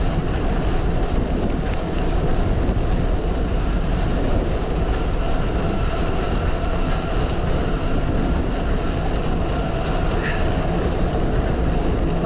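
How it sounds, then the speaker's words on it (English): A strong gust of hurricane wind buffets a cyclist, a loud continuous roar of wind rushing over the microphone that stays steady throughout, with no talking. "Gust."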